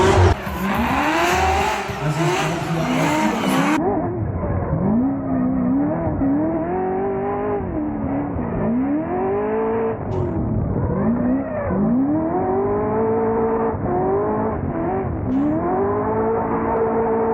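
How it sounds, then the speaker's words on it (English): Drift car number 41, driven by Ian Phillips, revs and accelerates hard at a drift venue, its engine note rising and falling in repeated sweeps with tyre squeal, loud and continuous throughout. "Und da geht's jetzt für Ian Phillips mit der Nummer 41 an den Start."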